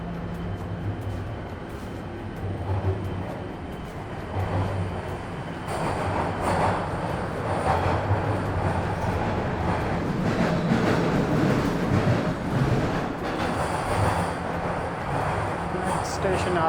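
A Toronto subway train rolls into Dundas Station with a sustained rumble of wheels and carriage noise that swells and brightens as it arrives, with faint squeals near the end.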